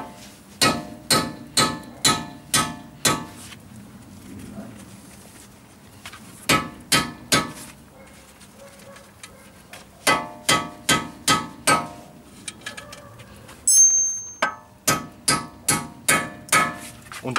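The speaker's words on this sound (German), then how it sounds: "Schon mal ein Stück nach hinten schlagen." Repeated sharp metallic hammer strikes driving a drive shaft nut backwards during a CV boot replacement, arriving in quick bursts of five or six blows separated by pauses, with a brief scrape partway through.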